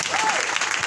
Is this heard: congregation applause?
yes